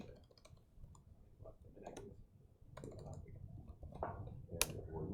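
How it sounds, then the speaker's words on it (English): Arrow keys on a computer keyboard are pressed in a few scattered soft clicks and taps, close and faint, with low background noise between presses. "I'm also using the up and down keys on the keyboard in order to get"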